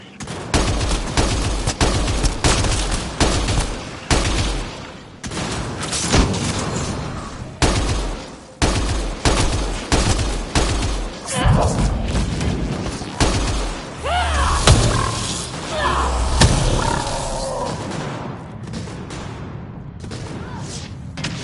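Sustained gunfire with heavy booms of grenade explosions in a firefight in the sci-fi shooter Mass Effect Andromeda, dense bursts of shots broken by louder blasts, with brief voices shouting over the battle.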